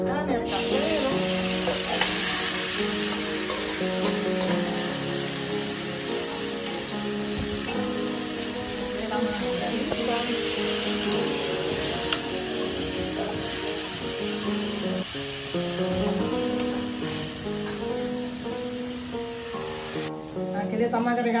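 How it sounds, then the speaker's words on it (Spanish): Ground meat sizzles in oil in a caldero pot for a Dominican rice-and-pigeon-pea meal, a loud, continuous close frying hiss with occasional stirring scrapes and no clear talk. "Aquí le estamos agregando un poquito de aceite para la carne. Ahí le estamos echando la carne, el caldero."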